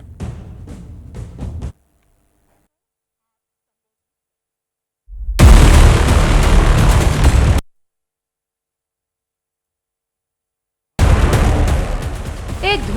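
Blast effect in a news report about an explosion at a police station in Faridabad: two loud, roaring bursts of rumble separated by silence, after a short opening stretch of voice.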